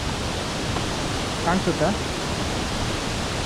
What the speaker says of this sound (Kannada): ಕಡಮಗುಂಡಿ ಜಲಪಾತ, ಕುದುರೆಮುಖ ವನ್ಯಜೀವಿ ವಲಯ ಕಡಮಗುಂಡಿ.